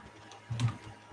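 A single dull bang on a computer desk and keyboard, one short heavy knock in the middle of an otherwise quiet moment.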